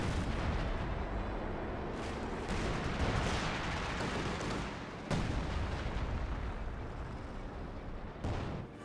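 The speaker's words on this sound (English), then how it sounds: "Great shot there by the Panzer IV." In the Company of Heroes 2 video game, a Panzer IV tank cannon fires amid a dense wash of battle noise, with heavy booms and sharp bursts rising out of a constant rumble of distant gunfire.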